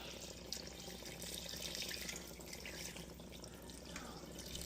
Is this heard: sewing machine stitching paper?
no